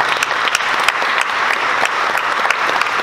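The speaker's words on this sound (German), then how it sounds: "Das ist wirklich mal einen großen Applaus wert." Loud audience applause at the Halloween Horror Festival at Movie Park Germany, many hands clapping in a dense, uneven patter with a few sharp individual claps standing out, sustained throughout.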